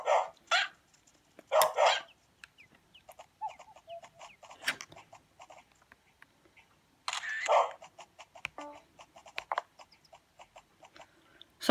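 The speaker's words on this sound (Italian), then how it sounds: "Allora, questo cane si chiama Zoe." Synthesized puppy barks from the Nintendogs + Cats handheld game, several short yappy bursts in two clusters, with faint chirps and clicks scattered between them, fairly quiet and with no talking.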